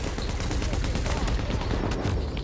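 Suppressing gunfire in a firefight in The Division, a dense, steady clatter of overlapping automatic shots with a rumbling low end, continuous and fairly close, with faint talk mixed underneath.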